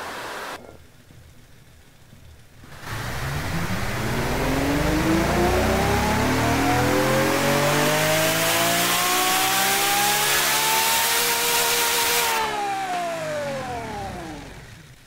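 A simulated V12 engine on a dyno in the video game Automation revs up from idle in a long, loud, rising sweep, holds a high pitch, then drops back, with no talking.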